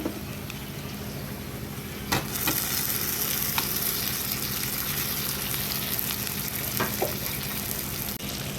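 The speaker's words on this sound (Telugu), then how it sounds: "చికెన్ ముక్కలు వేగాయండి." Chicken pieces frying in a pan for a gongura chicken curry, a loud, steady, close sizzle with occasional sharp stirring clatters, and no talking.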